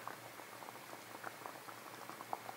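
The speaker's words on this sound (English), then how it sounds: "the longer you let this boil, the more the water will evaporate and the thicker the gravy becomes" Green chicken gravy (pollo verde) thickening in a pot bubbles at a steady rolling boil, soft popping and patter over a constant simmering hiss, close and fairly quiet.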